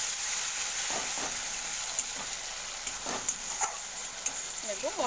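Ground spice paste hitting hot oil already crackling with black cumin seeds, a steady close sizzle and fry with a few louder spits and pops, no talking.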